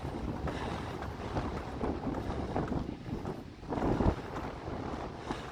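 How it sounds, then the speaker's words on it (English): Wind sweeps along a mountain trail on the Union Peak hike in Oregon, a constant close rushing roar with gusts that swell and ease, and no voices. "I wish it wasn't so windy."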